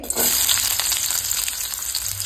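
Onion sizzles and fries loudly in hot oil in a kadhai, a steady dense crackle with occasional stirring, close and continuous throughout.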